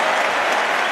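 Wimbledon crowd applauding in a steady, dense wash of clapping that fills a short burst, loud and continuous throughout with no voices standing out.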